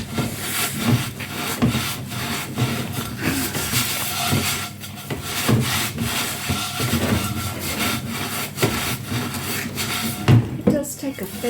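A cast iron Dutch oven lid is scrubbed by hand with steady, rhythmic rasping strokes that continue without pause at close range.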